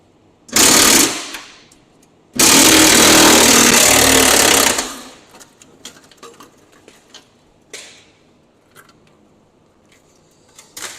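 A wrench works on the bolts of an Allis Chalmers WD-45 tractor, giving two loud, harsh, rattling bursts close by, the second lasting a few seconds, followed by faint metallic clinks and taps.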